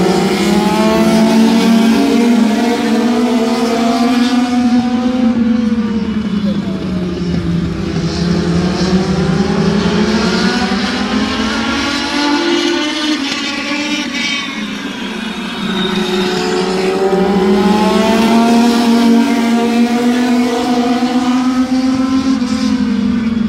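Legends race cars lapping Midvale Speedway during a heat race, a loud, steady engine roar that rises and falls in pitch as the pack sweeps past, heard alone with no talk.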